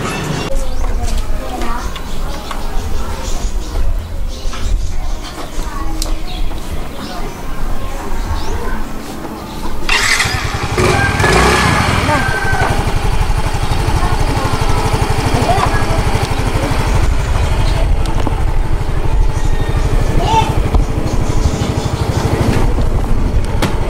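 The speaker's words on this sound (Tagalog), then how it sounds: "angkas na lang sa akin si Sheena motor lang" A motorcycle engine idles with a low, steady rumble that grows louder partway through, while people talk over it.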